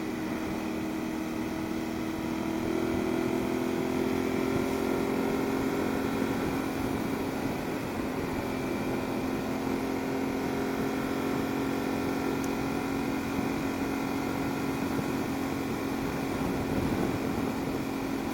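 A 2022 Aprilia Tuareg 660 motorcycle, not yet broken in, runs with a steady engine drone that rises slightly in pitch as it is revved below redline, a continuous close hum throughout.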